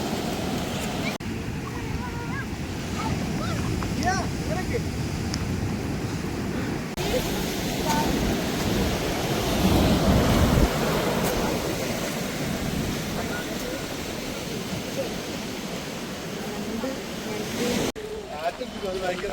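Surf washes and rumbles at a beach in a steady, broad roar, with people talking over it throughout.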